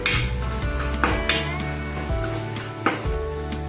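Spoon stirring a spiced curry in a hot frying pan, steady sizzling with repeated scraping knocks against the metal, loud and close, without talk.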